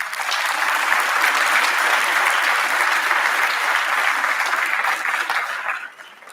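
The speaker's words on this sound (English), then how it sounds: "big round of applause for Tracy Hessen" Steady, dense applause from an audience at a school athletics parent meeting, loud and sustained for about six seconds before tapering off at the end.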